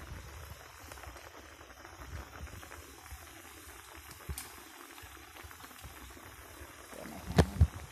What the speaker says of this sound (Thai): เคี่ยวไปเรื่อยๆนะคะ